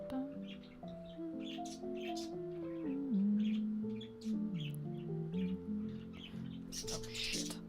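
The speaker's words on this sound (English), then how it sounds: "My birds are going crazy right now." Pet birds squawk and chirp indoors, giving a steady run of overlapping calls and tonal whistles at moderate volume that continues without a break.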